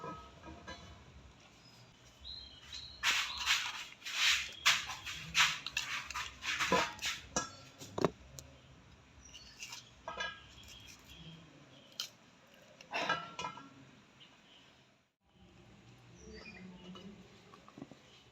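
Quick bursts of knife chopping green chilies on a cutting board, crisp irregular taps close by, pausing midway and then picking up again, with no voices.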